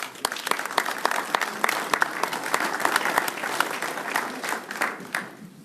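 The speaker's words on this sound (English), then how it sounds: "if we can give them a round of applause" Audience applause at a roundtable meeting, a dense patter of many hands clapping indoors for several seconds, steady at first and thinning slightly toward the end.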